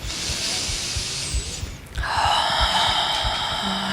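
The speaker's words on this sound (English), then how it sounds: "Deep inhales here, deep exhales." Deep yoga breaths: a long, audible inhale followed by a steady, hissing exhale, close and fairly loud, with no talking.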